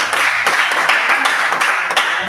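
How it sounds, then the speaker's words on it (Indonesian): A class of students claps during a lesson: loud, dense applause from a room full of hands that stays steady for a couple of seconds. "Oke, aplaus dulu namanya."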